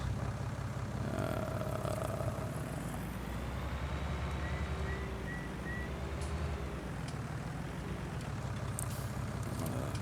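A tractor engine idling in the video game Farming Simulator 19, a steady loud low diesel rumble with a constant throb and faint whining tones above it, holding level throughout.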